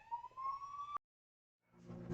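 A police car siren with a rising wail plays for about a second, cuts off abruptly into silence, then a low rumbling noise fades in.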